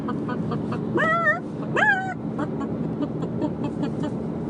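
A woman imitating a hen with two rising, wavering clucking calls, voiced close and fairly loud over a faint background hum.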